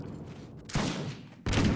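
Musket fire crackles in a Mount & Blade Warband battle: two loud, sharp volleys ring out close together over a low rumble of battlefield noise, with no talking.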